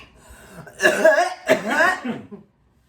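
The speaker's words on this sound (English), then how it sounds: "Yeah, I'm already coughing." A couple of close, throaty coughs in quick succession, loud and raspy, then silence.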